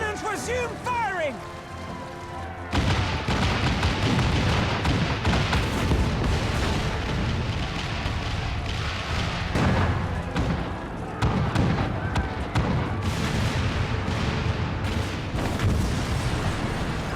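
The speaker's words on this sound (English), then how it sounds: "You heard the man! All cannons resume firing!" Heavy cannon fire and explosions in a Final Fantasy XIV battle scene, a dense, continuous barrage of booms and blasts under a music score, loud throughout after a brief quieter opening.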